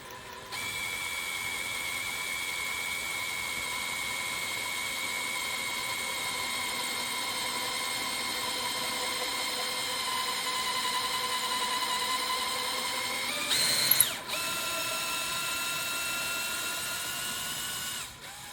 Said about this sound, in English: now I can drill a hole down through my roof into the tractor